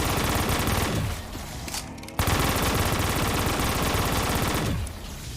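Sustained rapid gunfire from a Call of Duty Zombies custom map, Tower Twister, loud and close, with dense automatic bursts that pause briefly and then resume at full intensity.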